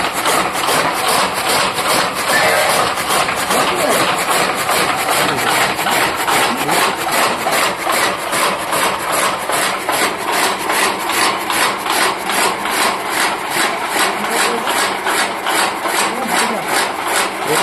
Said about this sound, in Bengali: এটা চাপ কাটার মেশিন